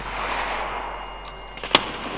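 A grenade fired and bursting in Escape From Tarkov, heard as a sharp, fairly close blast near the end over a steady hiss of game ambience, with a smaller thud just before it.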